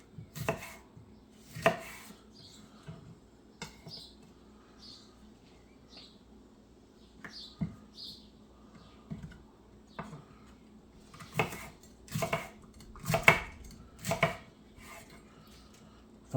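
Knife chopping fresh peppers for a salad on a board, irregular sharp taps close by, sometimes in quick clusters and sometimes spaced apart, with faint chirping birds in the background.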